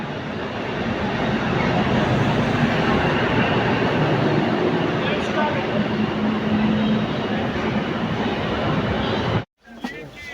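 A local train pulls out of Srinagar station in Kashmir, heard from inside a crowded compartment as a steady, loud rumble of wheels and carriage noise, with faint voices in the background, cutting off abruptly near the end.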